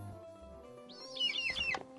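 Birds chirp in a Minecraft world running the Divine Journey 2 modpack, with a quick cluster of bright tweets and trills about a second long over a faint low hum.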